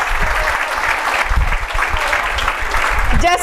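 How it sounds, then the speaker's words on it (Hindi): An audience claps at an International Women's Day celebration held by a railway workers' union women's wing, with continuous dense applause close by and a voice briefly audible near the end. "तो एक बार जोरदार तालियों से आप भी उनका स्वागत करें।"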